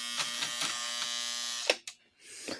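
A 1950s Lionel toy train motor runs rough and dry, needing oil, giving a steady buzzing whine with rattling pulses, then sputtering, stopping and briefly restarting near the end.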